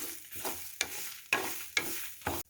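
Chicken masala with grated coconut fries in a pan as a spoon stirs it, giving four or five scraping strokes in a steady rhythm over a soft sizzle, close and fairly quiet.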